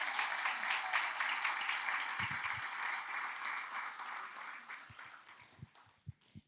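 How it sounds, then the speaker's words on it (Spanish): Church congregation applauding at a sermon, a dense wash of clapping that swells loudly at first and then fades, ending with a few scattered separate claps. "Dale un fuerte aplauso al Señor."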